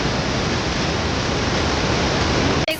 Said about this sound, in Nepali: कस्तो खतरा झर्ना छ यहाँ